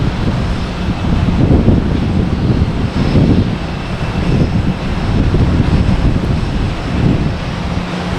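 A Cape Air plane arriving from Provincetown at Boston Logan Airport at night produces a steady, broad engine roar. The sound is dense and wind-like and holds throughout.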